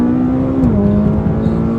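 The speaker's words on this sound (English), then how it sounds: "Whoa, this car is quick." A McLaren 570S supercar accelerating hard on the road, heard up close as a loud engine tone that climbs, dips briefly at a gear change, then climbs again.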